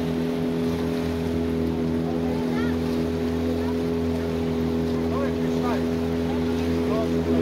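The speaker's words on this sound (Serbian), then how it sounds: "čamac je tu, vreme je da zaplovimo Dunavom" A tour boat cruises on the Danube through the Djerdap gorge, its engine a steady loud drone with water hissing along the hull and occasional voices faintly in the background.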